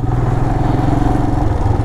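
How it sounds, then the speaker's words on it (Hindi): A motorcycle rides along a rough, jammed road during early monsoon in the Himalayas, ridden standing; a steady, loud, close engine drone runs throughout with low rumbling and rattling. "और खड़े होके चलानी पड़ेगी बाइक"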